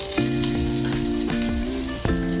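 Ginger and garlic sizzle in hot oil in a pan for a chicken dish, a steady, close crackle with a few sharper bursts and a humming tone running underneath.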